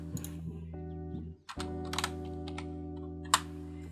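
Computer keyboard typing in bursts of key clicks, entering an AI image prompt, close and clear over a steady low hum, with one sharper tap near the end.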